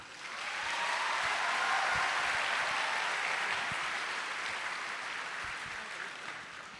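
An audience applauds at a foreign policy conference in Indonesia, a dense, steady wash of many hands clapping that swells quickly, holds for several seconds, and tapers slightly toward the end, with no talking over it.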